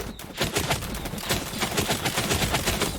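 Rapid bursts of gunfire from the video game NARAKA, dense overlapping shots in quick succession with a steady rattling rhythm, loud and close throughout.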